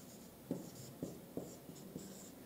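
A black marker pen scrawls across a surface in a quiet room, giving several short, distinct squeaky strokes spaced about half a second apart.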